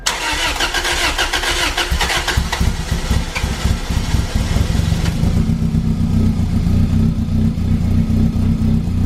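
A Toyota MR2 engine fitted with a new Garrett turbo cranks with rapid chugging and catches, then settles into a loud, rumbling rev and idle, close by.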